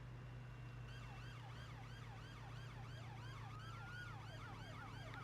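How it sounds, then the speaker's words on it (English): Wailing police car siren sweeping up and down continuously and fairly loud, heard from inside a car over a steady low engine hum, with no talking. "Turn the siren on then."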